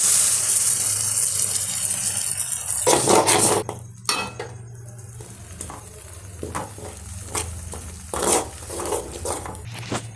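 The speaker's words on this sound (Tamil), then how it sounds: "நெக்ஸ்ட்டு நம்ம தக்காளி வெங்காயம் அரைச்ச பேஸ்ட்டை வந்து ஆட் பண்ணிக்கலாம்." A ground tomato and onion paste goes into a hot cooking pan, with a loud sizzle followed by scraping, stirring and clinks of a utensil against the pan.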